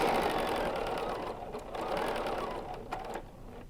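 A BERNINA sewing machine free-motion quilting a placemat gives a continuous close mechanical whir whose speed rises and falls with the stitching, easing off toward the end.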